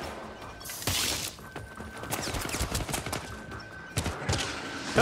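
Gunfire in the Syndicate video game comes in rapid loud bursts and sustained fusillades, with crashes and mechanical clatter mixed in.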